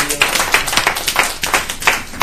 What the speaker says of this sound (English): let's give them a round of applause for even having the heart to even be here